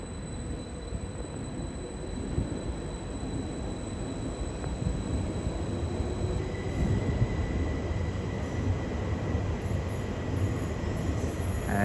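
An Elizabeth Line train runs through Stratford station on the Great Eastern Main Line, working a Shenfield to Heathrow Terminal 5 service, with a steady rumble of rolling wheels, faint wheel squeal and a high whine held throughout.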